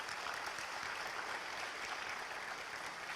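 A church congregation at a Tuesday prophetic service applauds, a dense, even wash of clapping that holds steady at moderate, somewhat distant level throughout, with no voices standing out.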